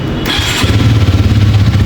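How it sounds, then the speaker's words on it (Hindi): A Hero Xtreme 250R motorcycle starts with a brief starter whir, then its engine catches and settles into a steady, close, throbbing idle with no talk. "यहाँ पे पहले बाइक के चाबी को ऑन कर देते हैं, इग्निशन ऑन है, और भाई अब बाइक को स्टार्ट करते हैं।"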